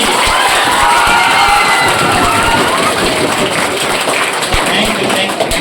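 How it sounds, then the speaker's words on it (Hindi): Crowd applause and cheering for a top-scoring student at a Bihar Board matric exam celebration, a loud, dense, continuous roar of clapping and voices filling the whole stretch. "इसके लिए जोरदार तालियां होनी चाहिए।"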